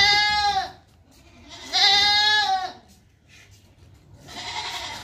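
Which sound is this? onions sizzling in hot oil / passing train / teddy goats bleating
teddy goats bleating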